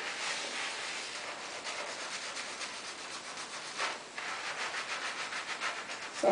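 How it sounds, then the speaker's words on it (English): Fingernails scrub a scalp during a hair wash with shampoo, a close, soft, continuous scratchy rubbing in quick uneven strokes that dips briefly midway. "always get my fingernails to clean and scratch, kind of scrub my scalp to cleanse it"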